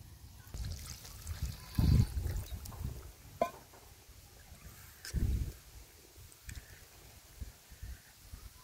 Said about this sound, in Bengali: এখন তাহলে ঝোল দিয়ে দিই।